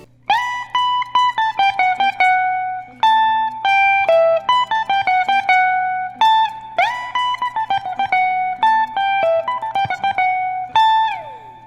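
Layered electric lead guitar lines play a quick African rumba melodic phrase with a harmony, notes plucked rapidly over a low steady drone.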